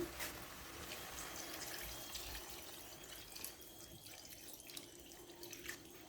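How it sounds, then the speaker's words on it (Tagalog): Water pours into a pan of frying pork heart and belly pork, a steady, fairly faint rush of liquid with small splashes and no voices. "Kapag ganyan na mga idol, maglagay na tayo ng tubig."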